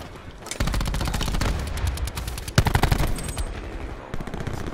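Gunfire in Rainbow Six Siege rattles in long automatic bursts, loud and close, with a brief pause between volleys and a sharp burst near the middle.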